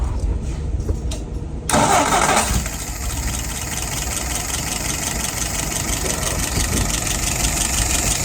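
An old vehicle engine cranks briefly, catches and fires up, then settles into a steady, even idle that runs on loudly and close for several seconds.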